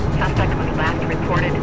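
A police helicopter in Need for Speed: Most Wanted (2005) drones in a steady, loud rotor-and-engine roar, mixed with game noise and someone talking over it.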